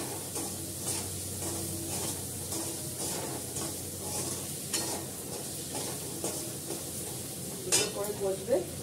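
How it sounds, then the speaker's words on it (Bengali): Food being stirred and sautéed in a pan over a raised gas flame, with steady sizzling broken by periodic scraping and stirring strokes and a few metallic clinks of utensil against pan near the end. "এবার এটাকে ভালো করে কষাবো, গ্যাস বাড়িয়ে দিয়েছি, ভালো করে কষাবো এটাকে।"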